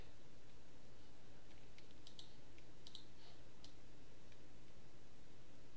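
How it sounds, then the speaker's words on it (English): Light, sparse clicks of typing on a computer keyboard, faint and irregular over a steady low hum, with no talk. "right now I can type designs over here"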